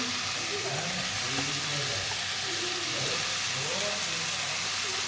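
Poppy seed and mustard paste sizzles in a hot pan with a steady, bright hiss throughout, while faint voice-like tones drift underneath.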